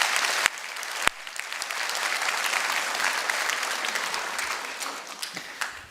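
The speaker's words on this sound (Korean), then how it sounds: "우리 교사 선생님한테 격려 응원의 박수를 좀 부탁드립니다." A church congregation claps in warm, sustained applause of encouragement for teachers during a church event, steady and even from start to finish, with a couple of sharp louder claps near the beginning.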